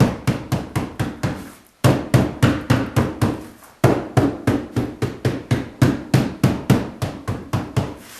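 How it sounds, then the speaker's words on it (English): Rapid runs of sharp hammer blows tap down the woven seat strands on a handmade bar stool, steady beats in two short pauses, close and loud with no talking. "hammer this down"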